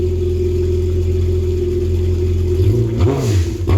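A Yamaha GP1800R jet ski engine fitted with a TDR Waterbox exhaust and Worx thru-hull, idling with a steady low drone, then blipped into a brief rev near the end, close and loud.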